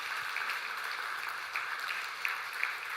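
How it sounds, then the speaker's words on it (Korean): A church congregation applauds a baptism during a Sunday service, a steady, moderately distant patter of many hands clapping that lasts throughout. "우리 박수로 축하하도록 하겠습니다."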